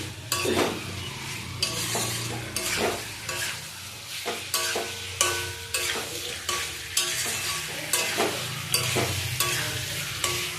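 Boiled potato, papaya and egg fry in a pan for a Bengali curry, a loud sizzle punctuated by regular rhythmic scrapes and knocks of a spatula stirring the mixture, with no talk.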